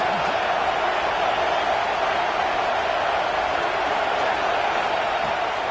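Stadium crowd at a Texas A&M versus Syracuse football game roaring for the defense on third down, a steady wash of distant cheering with no distinct voices standing out.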